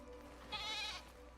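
A goat bleats once in Crimson Desert, a single wavering mid-pitched cry lasting about half a second, standing out clearly against a quiet, low background hum.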